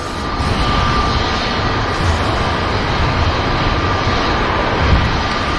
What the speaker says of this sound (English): There goes the Saudia, carrying on the climb out.